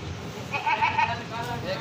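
A goat bleating among a group of goats being brought in by buyers, a wavering, quavering bleat in the middle of the clip, set against a busy murmur of voices and background noise.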